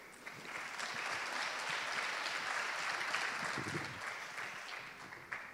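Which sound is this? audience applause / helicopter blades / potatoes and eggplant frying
audience applause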